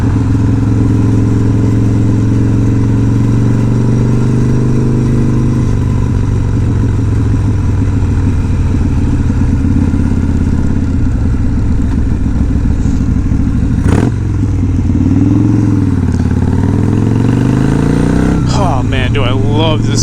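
A Harley-Davidson FXR motorcycle with a dyno-tuned engine rumbles loudly and close while riding, its revs shifting down as it slows and pulls in, with a rider talking over it and a brief clatter.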